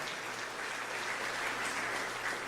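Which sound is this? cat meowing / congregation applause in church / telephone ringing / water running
congregation applause in church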